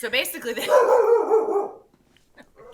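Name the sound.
dog barking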